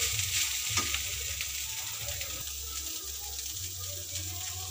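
Peanuts, onion and green chili fry with turmeric in a pan, giving a steady, close sizzle with occasional stirring clatter and scrapes. No one talks.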